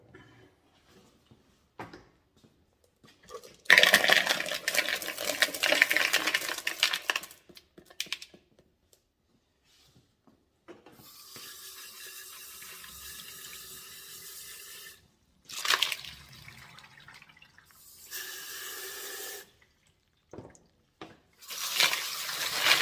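Mexican crazy lace stones being rinsed out of a Lot-O rock tumbler barrel, with bursts of running water and clattering stones separated by quiet gaps, close up and without talk.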